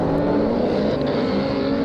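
A Super Modified rallycross race car engine drones steadily at high revs into a hairpin, a loud, sustained buzzing tone with no break and no talk over it.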